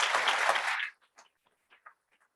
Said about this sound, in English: Please give John another round of applause.